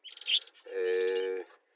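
Caged pair of white-blue parrots giving short bright chirps followed by a longer, harmonic squawking call, close and clear in an otherwise quiet room.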